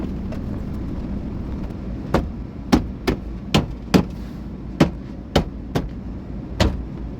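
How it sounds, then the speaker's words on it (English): Sharp knocks as door panel clips are tapped back into a 2004–2007 Nissan Titan door, about ten distinct hits in an irregular rhythm over a low steady background hum. "And you just tap all the way around like that."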